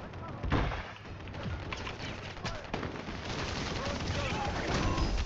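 Shotgun blasts from Warzone 3 gameplay in Plunder mode: several sharp, loud bursts over a busy background of in-game battle noise, with a voice talking at times.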